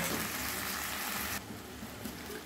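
Chopped tomatoes drop into a pan of frying spice paste with salt and sugar for Bengali potol posto, giving a steady, fairly faint sizzle that eases slightly partway through.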